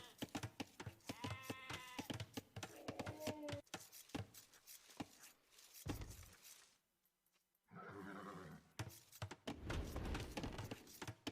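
Sheep bleating in a real-time strategy game, several short wavering bleats near the start amid clicks and game effects, followed by a brief quiet gap and busier unit sounds.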